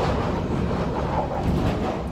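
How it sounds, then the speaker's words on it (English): A passenger train riding south toward Seoul, South Korea, heard from inside the carriage as a steady, dense low rumble that stays even throughout with no talking. "We're on a train."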